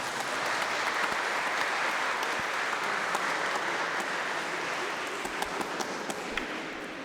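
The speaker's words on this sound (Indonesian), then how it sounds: "Suster Lile, tepuk tangan dulu untuk dia." A room full of people at an Indonesian community Mass claps steadily and loudly, sustained applause with a few sharper individual claps standing out, continuing the whole time.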